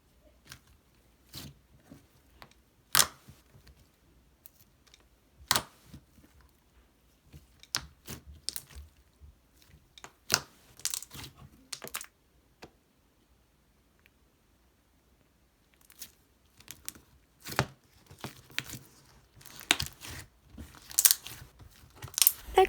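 Thick slime poked by fingers makes sharp, clicky pops and crackles in scattered bursts, some loud and close, separated by quiet gaps, with a dense cluster of clicks near the end.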